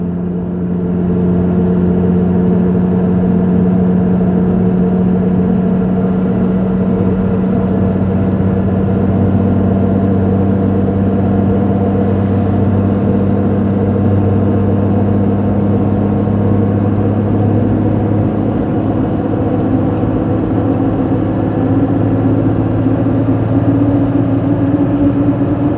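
A Toyota Land Cruiser Troop Carrier, an Icelandic-spec model driven on narrow Welsh lanes, drones loudly from inside the cabin as its engine accelerates, a steady heavy rumble that holds for the whole stretch without any talk.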